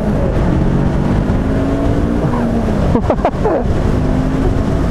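A Voge 500AC motorcycle engine pulls hard through second gear on an open road, a steady loud drone with rising engine tones and a brief dip in pitch partway through, wind rush running underneath throughout.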